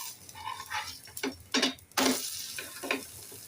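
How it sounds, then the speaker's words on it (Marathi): A jowar flour thalipeeth roasts in oil on a pan over medium heat, with a low sizzle punctuated by several irregular, louder scraping bursts as it is turned and pressed. "आता हे थालीपीठ आपण परतून घेऊया."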